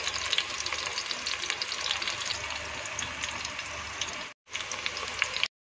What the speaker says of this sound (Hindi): मैंने अभी प्याज डाली हुई तेल में